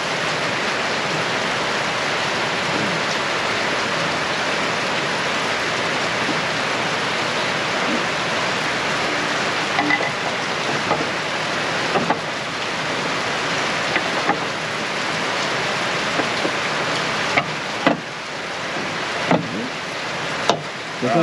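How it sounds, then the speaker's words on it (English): Heavy rain pours steadily and loudly beside a Woodmizer LT35 sawmill, a dense continuous wash of noise with a few sharp knocks and taps near the end, no talking. "I think it's gonna rain a half inch in 30 minutes."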